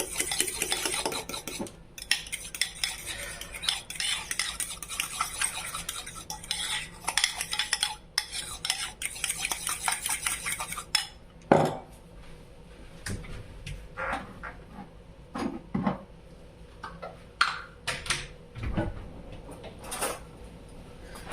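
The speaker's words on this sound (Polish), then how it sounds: "mieszamy ketchup razem z majonezem" Ketchup and mayonnaise stirred together in a bowl, a rapid run of spoon clinks and scrapes for about ten seconds, then sparser, fainter taps and knocks against dishes.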